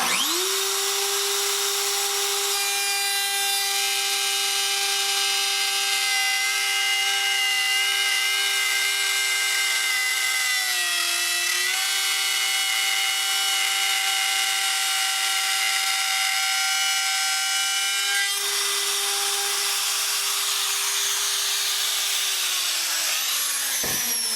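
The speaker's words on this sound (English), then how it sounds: "Alright, so we got our first side all routed out." A power router cuts a groove in wood, holding a loud, close, high steady whine for over twenty seconds with a brief dip in pitch partway through as it bites, then spinning down at the end.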